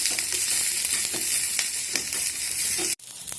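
Garlic and ginger tempering frying in a pan for mango rasam, a steady dense sizzle with a few stirring scrapes, cutting off sharply near the end.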